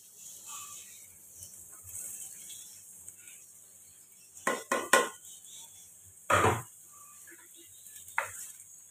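Boiled green jackfruit pieces fry in a pan under a soft, steady hiss, broken by a few sharp metallic clanks and scrapes of a utensil against the cookware.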